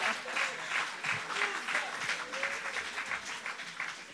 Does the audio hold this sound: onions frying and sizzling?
no